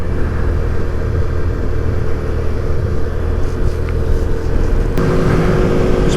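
A 2024 Kawasaki Z125 motorcycle is ridden at a steady 6,500 RPM at about 45 mph. A constant loud engine drone is buried in heavy wind rumble throughout, with no talk.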